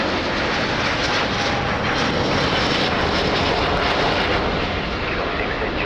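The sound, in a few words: airplane landing or taking off at Lisbon Airport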